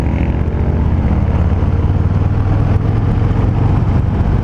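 Steady, loud engine rumble from a 2019 Harley-Davidson Fat Boy motorcycle on a curvy road, heard continuously from the rider's position with wind noise over it and a slight bog under load.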